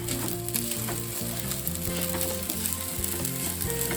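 Kimchi fried rice mixed with gochujang being stir-fried in a pan, a steady broadband sizzle running throughout with faint scraping of stirring, but strong tonal music dominates the low range and sits over the cooking.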